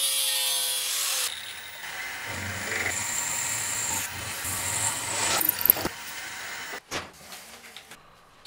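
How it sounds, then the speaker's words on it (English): A power tool grinds and whines against steel bar stock, cutting a slot in bursts with pauses, close and fairly loud, followed by clanks and scraping. "First, I'm going to cut a slot down the center"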